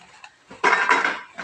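A spoon stirs a mashed potato and spinach pakoda mixture in a pot, giving a brief, close scraping clatter against the metal, with no talking.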